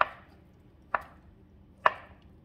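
Three sharp knife chops on a cutting board, spaced about a second apart, slicing carrots for a homemade potato salad; close and distinct with quiet room tone between strikes.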